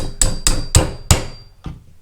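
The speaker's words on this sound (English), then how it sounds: "Just going to use a punch and my hammer to do that." A hammer strikes a metal punch to drive out the receiver pin on a Valken ASL Mod-M airsoft rifle. Four loud, sharp metallic taps come at an even pace, close up, followed by one lighter tap, with no talking.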